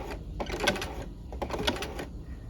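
A sewing machine runs in short bursts while stitching a narrow rolled hem, with a steady mechanical whir that starts and pauses several times, close and moderately loud.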